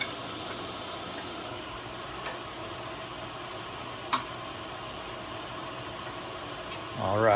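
A steady, fairly quiet engine idles as a constant low hum, with a couple of faint clicks along the way and a rising swell of noise near the end.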